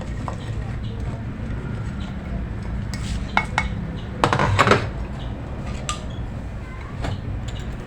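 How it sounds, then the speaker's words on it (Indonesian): Green chilies being ground for Padang-style sambal, with scraping and knocking of a stone grinder and kitchen utensils, louder clatter bunched near the middle over a steady background hum, with someone talking. "Kita giling cabai hijaunya dulu teman-teman."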